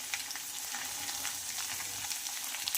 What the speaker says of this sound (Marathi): हे सर्व जिन्नस आपल्याला छान फ्राय करून घ्यायचे आहेत।